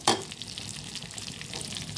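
Onion and garlic sizzle in a hot pan, opening with a sharp burst as they hit the oil, then settling into a continuous close frying crackle with light stirring, no voices.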